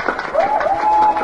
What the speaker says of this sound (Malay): Tepuk tangan untuk Rajo Lenggang